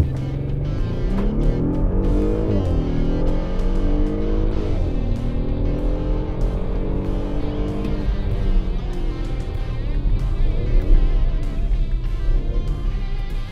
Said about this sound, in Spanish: Vamos a ver qué tal arranca.